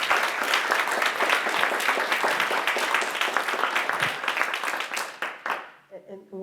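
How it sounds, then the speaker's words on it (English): Audience applause for a panel of speakers at a civil rights discussion event, dense sustained clapping from a crowd that fades out near the end. "Ladies and gentlemen, give another round of applause to our panelists."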